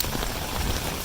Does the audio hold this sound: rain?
yes